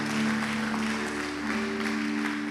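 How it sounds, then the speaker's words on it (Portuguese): Church congregation applauding during a baptism and communion service, a dense steady wash of clapping over a held organ or keyboard chord, close and fairly loud throughout. "toda a igreja diga aleluias e aplauda o Senhor"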